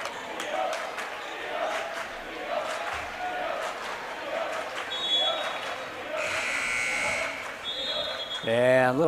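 A basketball scoring-table buzzer sounds at a boys high school game in a gym, its electronic tones cutting through continuous crowd noise and a commentator's voice.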